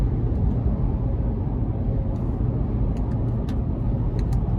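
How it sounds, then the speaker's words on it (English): The V8 engine of a 2014 Lexus GX 460 with a 6-speed automatic and 115,000 miles hums steadily from inside the cabin on a test drive, a low constant drone with road noise. "So again, a pretty strong V8, and having that trusty 6-speed automatic is nice."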